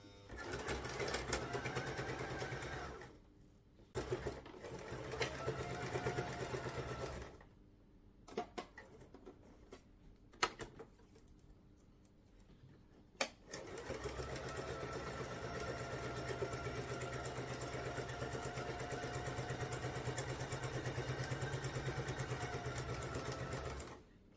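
A sewing machine stitching across the end of a piece of fabric, a steady close mechanical whir that halts twice for a few seconds of quieter handling clicks before running continuously again.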